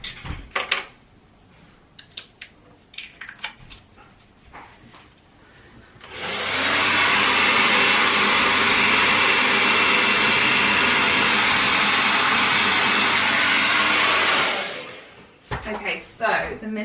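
A heat gun blows a loud, steady roar of hot air to soften glue during a rental hallway makeover, holding for about eight seconds between stretches of quieter handling noise and brief talk.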